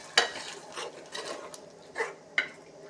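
A spoon stirs green pea kurma in a cooking pot, making a few scattered scraping and clinking strokes against the metal over a quiet simmering background.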